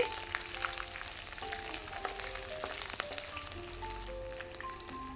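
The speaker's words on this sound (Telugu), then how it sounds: "చికెన్ వేపుడు చాలా పర్ఫెక్ట్గా ఫ్రై అయిపోయింది" Chicken pieces fry in a pan as a dry chicken fry, giving a steady, moderate sizzle with scattered crackles and pops throughout.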